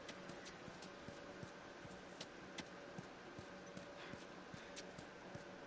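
In the video game The Last of Us, a horse's hooves clip-clop in an even, steady rhythm, quiet and a little distant, over a low background hum with no voices.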